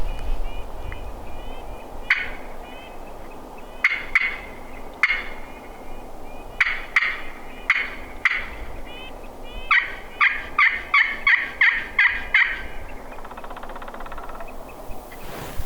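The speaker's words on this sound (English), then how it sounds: "So he gobbled" Wild turkey gobbling repeatedly outdoors on South Dakota public land, a string of sharp rattling gobbles at middle distance over steady wind and rustle, growing more frequent toward the end.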